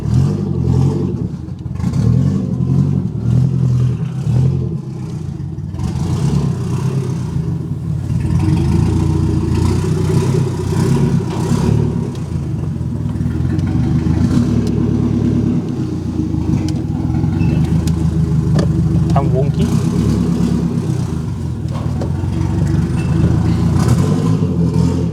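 Mercedes 190E with a swapped M111 engine running close by, a steady loud idle rising into repeated revs with throaty exhaust note throughout, no talk.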